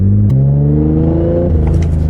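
Close engine drone from a twin-turbo Infiniti G37 in limp mode, a loud steady rumble that rises briefly in pitch, dips, then climbs again, with some faint clatter and no voices over it.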